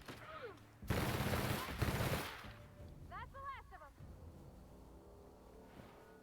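Gunfire in The Outer Worlds video game arrives as a loud burst of rapid shots early on, followed by quieter game effects and electronic tones; a voice speaks briefly over it.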